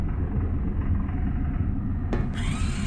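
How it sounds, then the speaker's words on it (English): A laser in a sci-fi puzzle game hums with a low grinding rumble as it cuts through the seal of a welded steel box, then breaks into a sudden bright hissing burst near the end. "The laser cut through the seal in the box."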